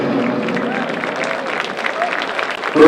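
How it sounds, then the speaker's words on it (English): Steady applause from a stadium crowd at a football medal ceremony after a gold medal game, a continuous wash of clapping at moderate distance with a slight swell near the end. "Let's give a round of applause as we commence our ceremony"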